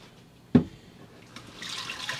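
Liquid drained from a crockpot of Italian bacon-wrapped chicken tenders splashes into a bowl sitting in an RV sink, a single sharp knock followed by a soft, growing trickle and pour nearby.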